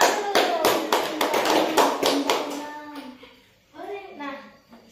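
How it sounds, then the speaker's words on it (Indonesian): Children in a classroom lesson clapping hands together in a quick burst of sharp claps, followed by children's voices talking. "Udah, tepuk tangan dulu."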